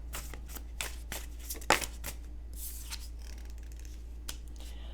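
Tarot cards shuffled by hand, a string of crisp riffling flutters and taps with one sharper burst near the middle, close and fairly quiet over a low steady hum.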